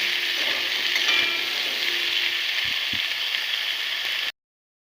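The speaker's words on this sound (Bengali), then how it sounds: "এইভাবে আলুটাকে 2 থেকে 3 মিনিট ভালো করে ভেজে নেব।" Potato pieces fry in a pan with a steady, close sizzle that runs unbroken, with a few soft stirring knocks, then cut off abruptly.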